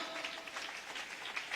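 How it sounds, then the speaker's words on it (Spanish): Congregation clapping at a church service in a hamlet in Sololá, Guatemala, a brief continuous patter of many hands, moderately loud and even throughout. "Kaya palmas al Espíritu Santo"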